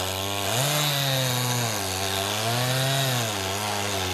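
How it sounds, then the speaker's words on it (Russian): A gasoline chainsaw cutting layer by layer through river ice around a ship's hull during winter freeze-out, a loud continuous engine whine rising and falling in pitch as the blade bites, with no talking. "Вот так слой за слоем речной лед выпиливается бензопилой"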